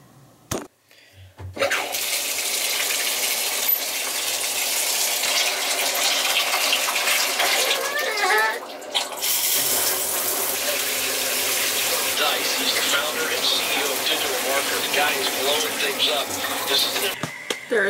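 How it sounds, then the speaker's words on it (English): Steady broadband rush of running water, like a shower spraying close by, continuous for most of the clip after a brief start. "But first, I need to get a shower."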